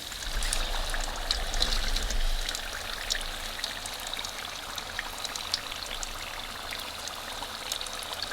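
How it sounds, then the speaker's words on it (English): Egg rolls frying in hot oil, a steady crackling sizzle that starts with a louder burst as they go in and then settles to an even bubbling hiss, close and without speech. "Let's go ahead and fry these and see how they look."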